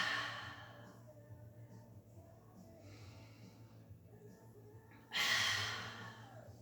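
Breathing during a Pilates clam exercise on the mat is quiet over a low steady hum at first, then a loud, forceful breath bursts out close near the end.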